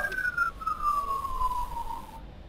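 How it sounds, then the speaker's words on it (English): A siren-like tone in a video game glides slowly downward over steady background rumble, sounding somewhat distant and moderately quiet, with no talking. "Huh, sirens."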